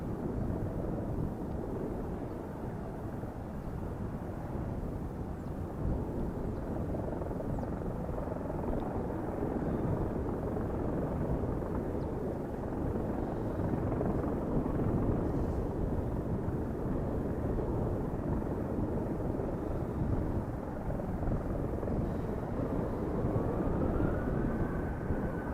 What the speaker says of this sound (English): Canada Airbus A321 heading to Toronto.